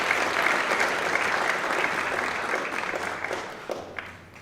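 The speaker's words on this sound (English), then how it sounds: "Let's give them another round of applause." A crowd applauding at a Founders Day ceremony, dense and steady clapping that gradually thins out toward the end.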